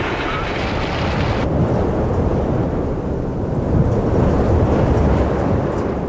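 A wedge tornado and thunderstorm produce a loud, continuous roar of wind and rain that holds steady without a break and nearly buries everything else.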